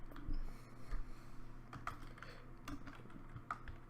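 Close computer-keyboard typing of a command while playing From the Depths: a few scattered key clicks and taps, quiet and uneven, over a low hum.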